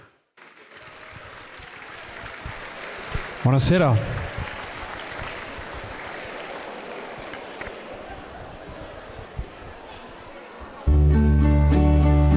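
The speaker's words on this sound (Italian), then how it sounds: "gli facciamo un bellissimo applauso" Audience applause for a former Mister Italia arriving from Bolotana at a live festive show in Ollolai, a broad steady clatter of clapping sustained under a greeting and murmurs before loud music cuts in near the end.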